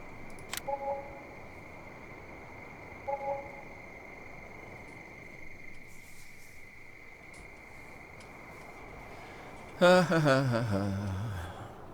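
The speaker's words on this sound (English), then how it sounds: "Crickets are driving me nuts anyway." Night crickets in a video game chirp as a steady, continuous high-pitched drone across the whole stretch, with a few faint game sounds on top and a louder burst of noise near the end.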